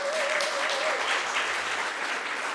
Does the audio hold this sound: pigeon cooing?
no